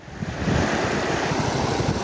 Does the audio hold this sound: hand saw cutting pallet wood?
no